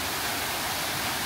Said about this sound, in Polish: I kolejne wodospady.